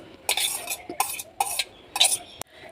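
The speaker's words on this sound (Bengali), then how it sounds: "কাটা চামচের সাহায্যে এইভাবে ম্যাশ করে নিচ্ছি" A fork mashes boiled potato in a bowl, with fried eggs added, giving four short scraping, squishing bursts at a steady rhythm, fairly close and moderately loud, with no talking.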